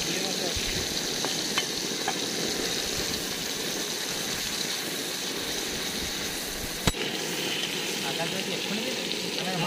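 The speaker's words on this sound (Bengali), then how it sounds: "এবার চিংড়ি মাছগুলো ভেজে নিচ্ছি" Shrimp frying in a pan, a steady, dense sizzle that runs through the whole clip at an even level, with one sharp clack near the end.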